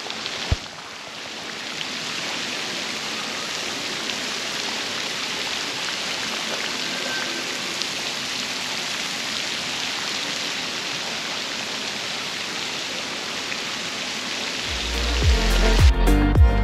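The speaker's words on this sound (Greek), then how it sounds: "Ακόμα και τεχνητή βροχή έχουν φτιάξει" Artificial rain sprays down at a park attraction in Barcelona, a steady, dense hiss of falling water that holds evenly for most of the stretch before other louder noise cuts in near the end.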